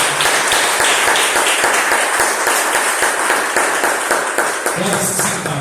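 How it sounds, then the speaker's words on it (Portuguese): Church congregation applauding loudly and steadily, dense rapid clapping from many hands that fills the space throughout, with voices mixed underneath. "Aplauda o Senhor com alegria."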